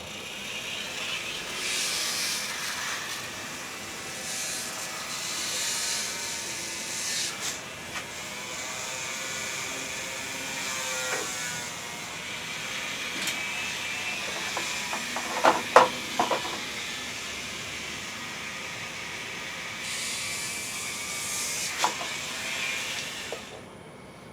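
A Dremel rotary tool grinds on a Shimano XT rear derailleur, a continuous high whirring hiss that rises and dips with pressure, with a few small clicks partway through.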